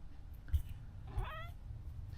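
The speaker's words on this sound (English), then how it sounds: "Oh, it's my cat. She wants to say hello." A pet cat gives a single short, soft meow close by, over the low steady hum of a room with a pedestal fan around.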